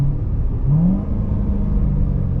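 A supercharged 700-horsepower Corvette's engine roars loudly with a deep, rising whine as it accelerates hard at full throttle, close up and sustained.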